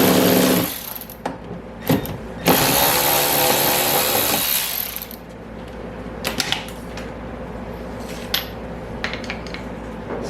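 Socket wrench at work on the front passenger door bolts of a W109 Mercedes, giving loud close metallic clicks and ratcheting bursts, a long steady grinding stretch, and scattered knocks and clanks.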